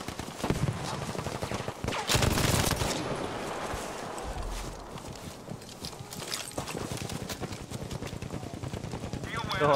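Sustained bursts of BAR machine-gun fire in a Battlefield V match, loud and repeated in rapid volleys, with someone talking excitedly over the shooting.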